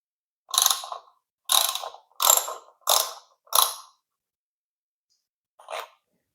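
A ratchet wrench unbolts the top mirror bolt on a Honda Rebel 300 motorcycle: five quick clicking bursts in a row, a pause, then one last burst, crisp and close with no talk.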